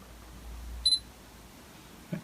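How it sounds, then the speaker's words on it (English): A Sony A7R II camera fitted with a Canon 16-35mm f2.8 II lens through an adapter fires its shutter: a sharp mechanical click, then a second softer click about a second later, close up in a quiet room. "I'm going to count down the shutter"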